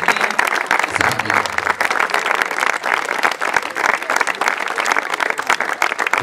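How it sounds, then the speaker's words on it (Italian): Loud audience applause at an evening event closing a five-a-side football memorial tournament for Costantino and Cesare; dense, sustained clapping from a large crowd throughout, with brief low murmuring underneath early on. "voglio iniziare dedicando un forte applauso a quelli che sono i protagonisti di questa sera, a Costantino e Cesare"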